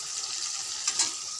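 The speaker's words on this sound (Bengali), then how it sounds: "দেখো শাক ভাজা চলছে" Leafy greens fry in a pan with a close, steady hiss of sizzling oil and small crackles rising briefly near the end.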